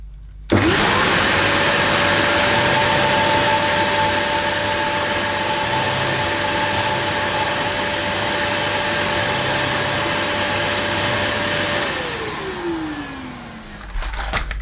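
A Dyson DC05 Motorhead vacuum cleaner with its power head runs loud and steady at close range for about twelve seconds, holding a constant motor whine, then spins down and fades toward the end.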